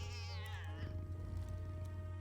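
A cartoonish cat in the video game Hero-U gives a rising-then-falling meow, bright and clear at the start before sliding down, over a steady low game music hum.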